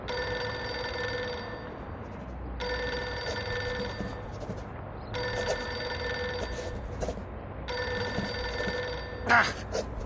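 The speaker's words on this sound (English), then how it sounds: "Pick up the phone already!" A telephone in the video game Reverse:1999 rings in long electronic bursts separated by short gaps, repeating steadily at moderate loudness with a brief sharp noise near the end.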